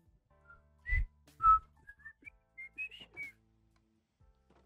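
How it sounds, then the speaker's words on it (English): A person whistles in odd, wavering little notes, a few short warbling pitches that slide up and down between two brief thumps, alone and fairly close in quiet surroundings. "You whistling all funny again"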